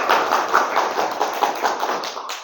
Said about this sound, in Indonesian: Tepuk tangan untuk Dinda.